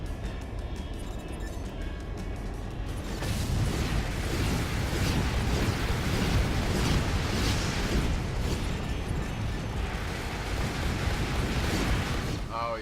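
In Armored Core 4, a mech video game, missiles are shot down by machine gun fire, producing a sustained, noisy roar of rapid fire and explosions that starts abruptly and stays loud and continuous.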